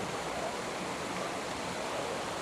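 Rushing stream swollen after rain in a mountain area, a continuous steady wash of turbulent water with no breaks, fairly close and unaccompanied by voices.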